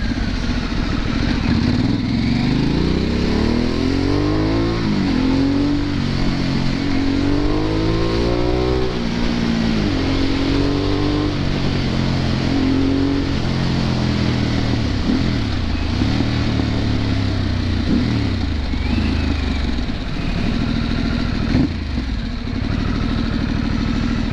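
A deep, throbbing Harley-Davidson Sportster S engine rumbles steadily, pitch rising and falling as the throttle is worked through several revs while riding, loud and close.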